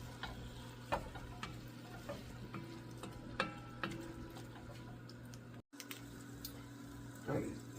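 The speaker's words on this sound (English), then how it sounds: "These onions have been cooking for a couple hours and I got them right about where I want them." Onions for French onion soup, cooked for hours until charred on the bottom of the pan, crackle faintly as they are stirred, with scattered scrapes and ticks over a low hum.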